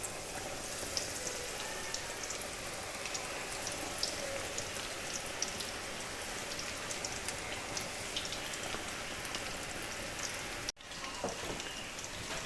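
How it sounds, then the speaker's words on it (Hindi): Pakoras deep-frying in hot ghee in a kadhai, a dense, steady crackling sizzle close by, continuous and fairly quiet, with a brief break near the end. "मैंने ये कढ़ाई में घी गर्म कर दिया है, अब हाथों की मदद से मैं इसे फ्राई करूँगी।"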